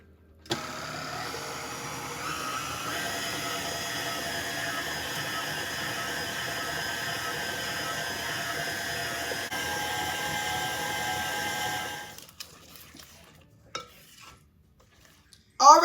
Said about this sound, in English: And mix those in until they're well blended.